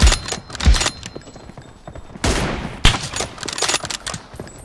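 Bursts of gunfire in a shooter game, with sharp shots and rapid flurries arriving in irregular clusters, loud and close with short gaps between volleys.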